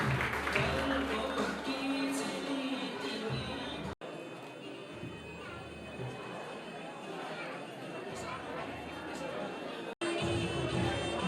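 Crowd at a Jaycees installation ceremony, continuous hall noise of chatter and scattered clapping from an audience, steady and moderately loud throughout with brief cuts, voices murmuring underneath.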